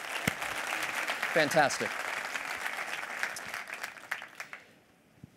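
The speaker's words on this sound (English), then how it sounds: "give a big round of applause for the PHLCVB" An audience at a conference keynote applauds in a steady, dense round of clapping that fades out toward the end, with a voice briefly speaking over it.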